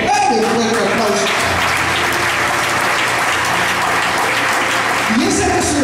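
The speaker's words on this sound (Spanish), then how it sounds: "¡Dale un fuerte aplauso!" Congregation applauding loudly during a church sermon, dense steady clapping across the whole stretch with a few voices and murmurs mixed in.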